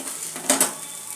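A pesarattu-style mixed lentil dosa is flipped on a hot pan. Two quick metallic scrapes and clinks of the turner sound close together against a soft background hiss.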